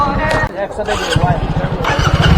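A Royal Enfield motorcycle engine runs steadily during a short ride toward Dakshineswar and Bally Bridge, its low pulsing thump continuous and close, with a voice talking over it.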